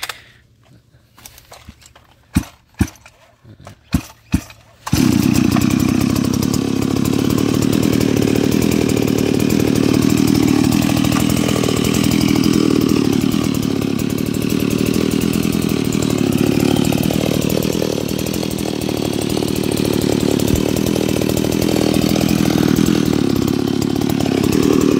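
A few sharp knocks and clicks, then a Stihl chainsaw engine starts and runs loudly and steadily for about twenty seconds, its pitch wavering slightly.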